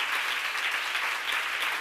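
A church congregation at a Korean seminar breaks into applause, dense continuous clapping from many hands, loud and even throughout.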